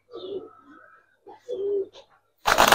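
A silver Giribaz pigeon, an old-breed female, coos in soft low phrases nearby, with brief pauses between them, before a sudden loud rush of noise cuts in at the end.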